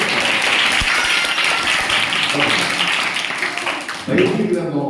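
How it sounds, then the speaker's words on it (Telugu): An audience at a magic show applauds, a dense, steady wash of clapping that carries on for several seconds before thinning out near the end. "ప్రవళిక చప్పట్లు"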